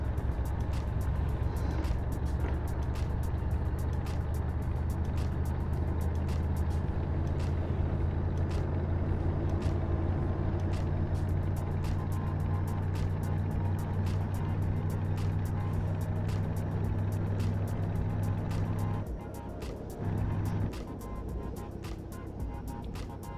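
The Iveco Turbostar truck in a truck-driving video game produces a steady low diesel drone with light ticking, then a sudden drop and pause near the end, continuous and close, without speech.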